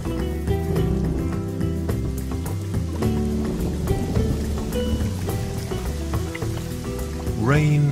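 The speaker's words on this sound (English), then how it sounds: "Rain is essential for builders who work with mud." Rain falls steadily, pattering on surfaces with scattered sharp drops, under a musical score and a narrating voice, with a louder swell near the end.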